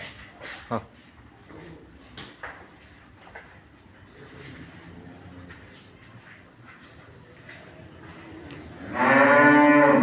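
Dairy cows on a farm: a quiet stretch of faint shuffling and knocks, then one loud, drawn-out moo bellows close by at the end.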